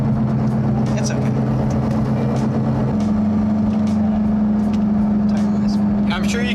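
Tire roar from the old, cracking tires of a Porsche 944 on the move, a constant loud rumble with a steady low engine hum underneath, heard from inside the car.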